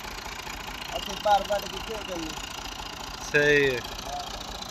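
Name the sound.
tractor engine idling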